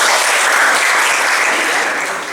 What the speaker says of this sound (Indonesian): silakan berikan tepuk tangan dulu ya